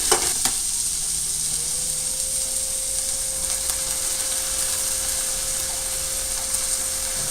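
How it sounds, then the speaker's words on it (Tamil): Chopped onion sautés in a pan, a steady close hiss of frying with a few stirring knocks near the start and a faint background hum. "வெட்டி வச்சிருக்கிற உள்ளியையும் சேர்த்து வதக்கிட்டு"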